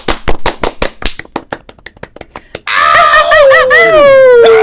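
Two hosts of a live show clap to start the broadcast, a quick run of about a dozen sharp, close claps, then a voice lets out a loud, drawn-out exclamation.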